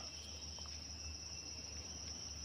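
Newly hatched crickets in a breeding box give a steady, faint high-pitched chirring drone that holds unbroken throughout, with a low background hum and no voices.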